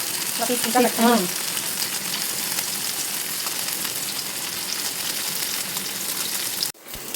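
Goat brain fries in a pan with a constant close crackling sizzle, and a few seconds of talking are heard near the start.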